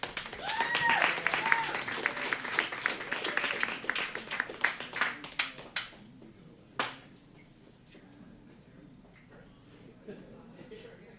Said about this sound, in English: And so a big round of applause for Eris